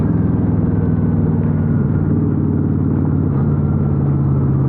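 A chopper motorcycle's loud, steady engine rumble with a throbbing exhaust note, held at a constant level and close by, with no talking.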